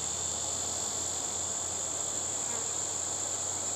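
Honeybees swarm over a hive frame drawn from foundation, loading it with nectar, giving a steady, even buzzing drone with no breaks, close and constant throughout.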